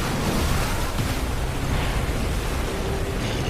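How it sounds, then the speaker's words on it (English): An anime water cannon spell blasts out as a dense, loud, continuous roaring rush of water that holds steady throughout with no voices. "Spell transfer, water cannon!"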